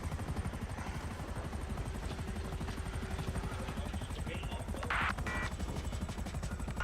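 A helicopter lands in the GTA V roleplay game, its rotor giving a steady, loud, low throbbing pulse throughout, with a brief burst of higher noise near the end.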